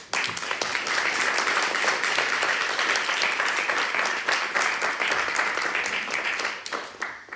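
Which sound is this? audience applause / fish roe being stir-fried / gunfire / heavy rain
audience applause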